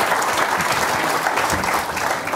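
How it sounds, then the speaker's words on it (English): An audience at a Cloud Native London tech meetup applauds: a dense, continuous round of clapping from a room full of people, loud and steady throughout. "So please, a round of applause"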